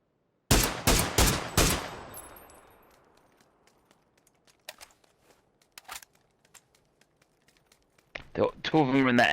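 Bursts of gunfire in PUBG: Battlegrounds, a quick loud string of shots followed by sparse, fainter distant pops and a final rapid volley, with players talking over parts of it.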